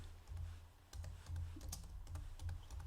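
Computer keyboard typing during an OpenOffice Impress session, with a handful of quiet, irregular key clicks over a soft low background hum.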